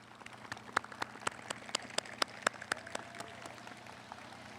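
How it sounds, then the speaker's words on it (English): At a language institute graduation ceremony, scattered and fairly faint applause for the parents builds to a brief peak of individual sharp claps, then thins out and fades. "let's give them a round of applause"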